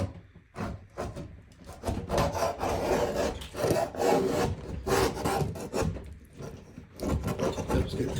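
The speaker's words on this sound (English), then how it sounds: "Harbor Freight scraper here" A blunt Harbor Freight scraper scrapes silicone off a surface during a shower valve and FRP panel install, with repeated close, rough strokes in an uneven rhythm and no talking.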